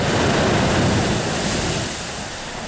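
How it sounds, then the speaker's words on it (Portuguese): Sea waves surge into the La Bufadora sea cave on the Baja coast, forcing water out in a loud, broad, continuous roar of surf and spray that eases slightly toward the end, with some wind rumble on the microphone. "A pressão das ondas, somada ao ar preso na caverna, faz com que a água exploda a uma altura de até 20 metros, com um ruído impressionante"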